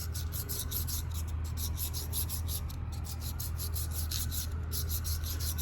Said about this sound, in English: this one I'm right here using right now is a coarse grit. I think it's 45 micron. This is the blue DMT stone here.